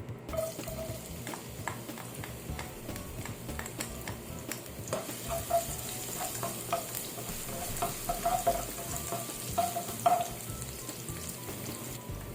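Garlic frying in hot cooking oil in a pan for chicken feet Bicol Express, a steady close sizzle with light crackles and occasional soft utensil clicks, no talking.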